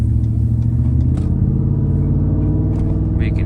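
Cut exhaust on a 2016 Ford F-150 with the 5.0 V8 and 6R80 six-speed, 186,000 miles, rumbles close and loud in a low, lumpy idle with a slight rev, alone without talk.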